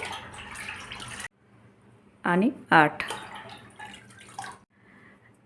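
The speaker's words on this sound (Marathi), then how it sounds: "ह्याच भांड्याने आपण आठ भांडे पाणी टाकलेलं आहे" Water is poured from a measuring vessel into a cooking pot in a home kitchen, giving two short, loud splashing pours between quieter clatter, with a voice counting aloud.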